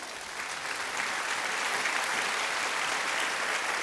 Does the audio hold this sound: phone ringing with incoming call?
no